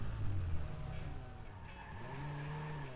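Cars skid, flip and crash in the Watch Dogs video game, with a steady engine drone and a rising engine pitch near the end, all fairly loud and close.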